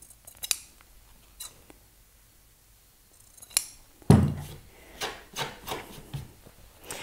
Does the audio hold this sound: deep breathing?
no